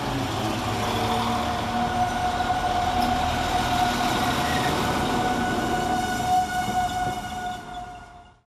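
A West Midlands Railway passenger train on the Shrewsbury to Birmingham New Street line at Smethwick Galton Bridge station, rolling past with a loud, steady metallic rumble and a sustained high wheel whine, then fading away at the very end.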